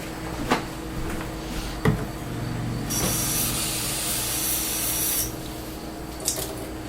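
Three-quarters of a cup of water pours into a container while making homemade jalapeno hot sauce, a soft steady splashing stream in a kitchen with faint clicks and knocks around it.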